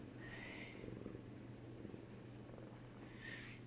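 A cat purrs softly and steadily up close, faint and low in a quiet home, with no talking over it.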